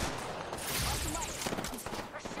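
Rapid bursts of gunfire in the Apex Legends video game, dense and continuous across the clip, with game effects layered over the shots and no clear talk.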